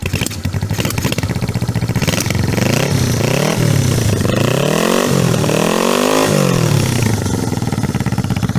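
A custom 1975 Honda CB360 motorcycle with shorty mufflers fires up and revs, its engine note rising and falling loudly in repeated swells over a constant gritty idle.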